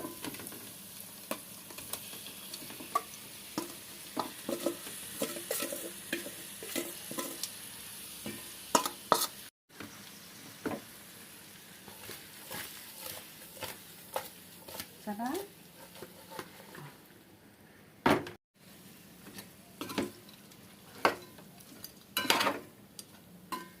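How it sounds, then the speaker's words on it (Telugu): Fish pieces fry in ginger garlic paste for a Telugu-style tamarind fish curry, a steady close sizzle broken by repeated scrapes and clinks of a stirring spoon against the pan, with a couple of brief gaps. "అల్లం వెల్లుల్లి పేస్ట్ వేగిన తర్వాత అందులో చేప ముక్కలు వేసుకోవాలి."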